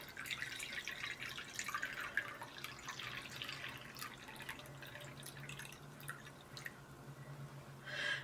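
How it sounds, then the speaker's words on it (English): Warm water, 350 grams, trickles into a sourdough mix for Italian herb and cheese bread. It makes a quiet, continuous pouring and dripping sound with a faint splash right at the end. "Next, I'm going to add 350 grams of warm water."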